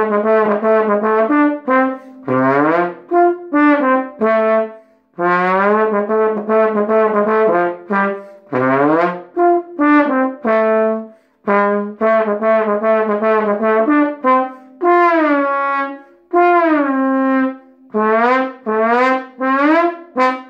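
A solo trombone plays a comic tune up close, with short bouncy phrases broken by swooping slide glissandos and brief pauses between phrases.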